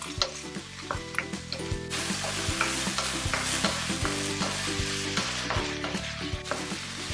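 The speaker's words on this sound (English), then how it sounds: "And then you continue to cook the carrots until they are tender." Carrot pieces fry in a hot pan, seasoned with salt and pepper, sizzling steadily while a utensil scrapes and taps the pan in a quick, repeated stirring rhythm, close up and without talk.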